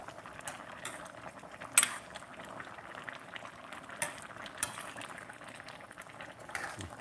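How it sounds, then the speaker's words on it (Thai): Thai jungle fish curry bubbling hard in a pot, a dense, steady simmering crackle with a few sharper pops and clinks rising above it, close and fairly loud, with no talk. "นี่มันเดือดนะปลาเราจะพลิกได้ละ"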